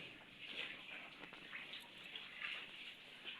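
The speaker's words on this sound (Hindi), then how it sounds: "जहाँ भी खड़े हो रहे हैं वहाँ से पानी टपक रहा है।" Rainwater dripping and trickling steadily through a leaking house roof indoors, a constant faint watery patter with no talking.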